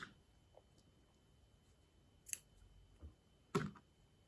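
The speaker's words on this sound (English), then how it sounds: "If you're changing colour, we're going to cut the yarn." Scissors cut through crochet yarn for a left-handed sunburst granny square, heard as a soft snip near 2.3 s and a sharper, louder snip at 3.6 s against a quiet room.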